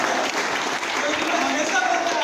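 An audience at a motivational gathering claps in a dense, continuous burst of applause, loud and close, with a voice speaking over it.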